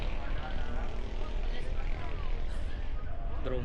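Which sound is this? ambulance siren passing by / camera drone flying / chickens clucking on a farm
camera drone flying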